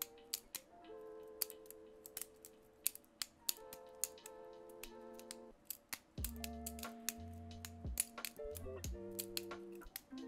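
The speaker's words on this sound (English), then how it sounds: "your boy was dope on the butterfly knife" Rapid metallic clicks and clacks of a butterfly knife being flipped, irregular and close, over soft background music.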